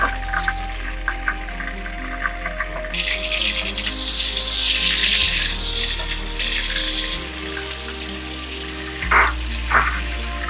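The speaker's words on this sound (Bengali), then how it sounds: "এবার নেক্সট আমি করব পাইনাপেল কিউবগুলোকে আমি তেলেতে দিয়ে ভেজে নেব।" Pineapple cubes frying in hot oil for a Chinese-style pineapple chicken, a steady wash of sizzling and crackle that swells in the middle and stays close over a low background hum.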